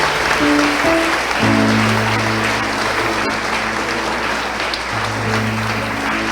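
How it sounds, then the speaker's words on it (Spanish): Loud, sustained applause from a crowd at a church Bible study gathering, steady clapping throughout with faint tonal music or hum underneath. "¿Pueden dar un aplauso a ellos?"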